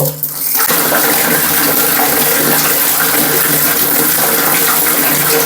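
Hot water gushes from an opened tap fed by an electric geyser, starting after a brief quiet moment and then running as a steady, loud, close rush with no talking.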